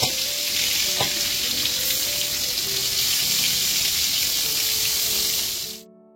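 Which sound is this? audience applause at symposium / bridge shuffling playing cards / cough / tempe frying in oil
tempe frying in oil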